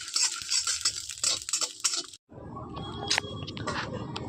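Dried chillies, cumin and coriander seeds are dry-roasted in a pan, a bright crackling hiss under quick stirring, then a break and lower clattering scrapes of a spoon against the metal.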